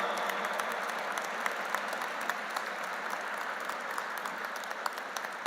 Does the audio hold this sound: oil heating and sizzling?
no